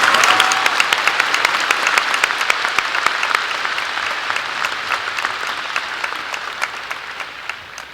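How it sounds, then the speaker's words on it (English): Audience applause fills a high school graduation ceremony, a dense, steady wash of clapping from a large crowd that starts strong and slowly tapers over several seconds, with no speech over it. "Please join me in a round of applause for each of these people and their contributions to making this ceremony a"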